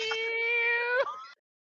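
A single drawn-out meow, clear and close, holding a steady tone before bending upward near the end and cutting off into silence; the tone suggests a person imitating a cat rather than a real animal.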